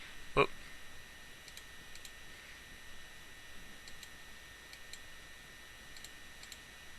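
A single sharp computer mouse click near the start, then a quiet room with faint background hum and tiny ticks.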